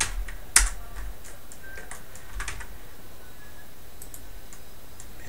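Keys tapped on a computer keyboard's numeric keypad while working in Blender, a few sharp isolated clicks spaced apart, one louder press near the start, then quiet.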